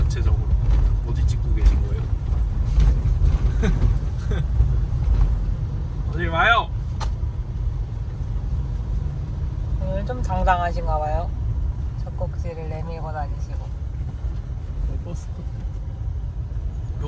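Steady low engine rumble of a shuttle bus drawing near on a Melbourne hiking trip, with people talking over it at intervals.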